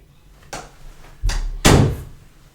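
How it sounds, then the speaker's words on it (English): An indoor door swings and is pushed shut, a couple of soft knocks followed by a louder, close thud as it closes. "I'm just going to close the door"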